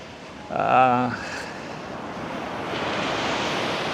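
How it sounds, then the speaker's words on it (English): Ocean surf on Kuantan Beach, Malaysia, a steady broad wash of breaking waves with wind rumble in the background. A brief voice is heard near the start. "I'm currently on Kuantan Beach"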